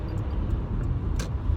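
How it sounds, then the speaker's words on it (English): A car with a V6 engine driving on the highway, a steady low engine and road rumble filling the cabin throughout, with a brief brighter whoosh near the end. "This car is a decent engine, V6."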